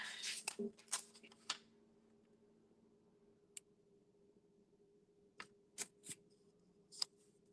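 Scissors snip through paper card pieces in a quiet room, a handful of crisp separate cuts, a quick cluster at the start and scattered snips later, with a faint background hum.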